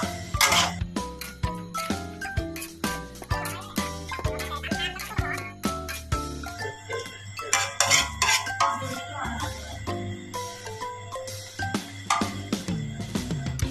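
Spring onions are stir-fried in a pan, with a metal spatula scraping and clinking against it in quick, irregular strikes close to the microphone.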